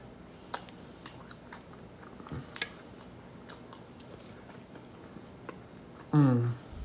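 Soft, close chewing of a keto chicken parm quesadilla, scattered faint bites and mouth clicks over several seconds, ending with a brief hummed voice.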